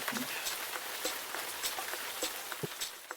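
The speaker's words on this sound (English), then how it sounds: "the sheer wonderment of the rain?" Rain patters steadily on a surface as a dense hiss with scattered individual drops, fairly close and continuous, while a voice is faintly present at times.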